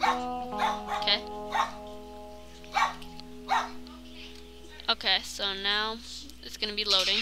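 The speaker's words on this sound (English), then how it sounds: "Oh, sorry about my dog, he's quite loud." A dog barks loudly indoors in several sharp bursts, interspersed with yips and whimpers, while someone talks over it at a computer.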